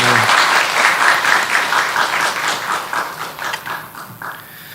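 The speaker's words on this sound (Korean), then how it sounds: "우리 감사의 박수 한번 뜨겁게 한번 하겠습니다." A church congregation applauds warmly during a Sunday worship service, brisk and loud at first, then thinning into slower, more separate claps as it fades.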